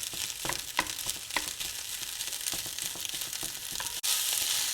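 Fried rice and vegetables tossed in a ceramic skillet, a steady loud sizzle with irregular scraping and stirring knocks as the rice sticks to the bottom, the hiss swelling briefly louder near the end.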